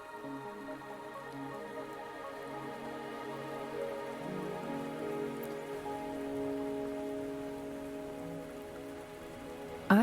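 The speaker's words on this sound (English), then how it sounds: "Don't worry, the rain won't last much longer." Steady rain falls on surfaces in the Wuthering Waves video game, a continuous patter with droplets and drips, layered over soft tonal game music, with no speech.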